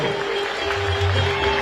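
A graduation ceremony audience at Kampala University applauds the Chancellor, steady continuous clapping from a large crowd over a faint electrical hum.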